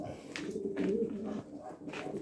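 Janssen racing pigeons coo softly nearby, with low, murmuring calls that repeat over a faint, steady background.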